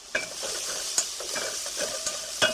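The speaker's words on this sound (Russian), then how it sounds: "Вот эти овощи, лук с морковкой, постепенно обжариваются" Onion and carrot fry in a pan for cabbage rolls, giving a steady, bright sizzle broken by a rhythm of close stirring clicks and scrapes. No one talks.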